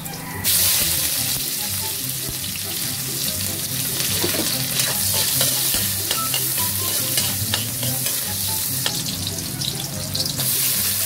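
Onion sautéing in a hot pan as the base for a small-shrimp guisado gives a loud, constant close sizzle with frequent scraping stirs and light utensil clinks throughout.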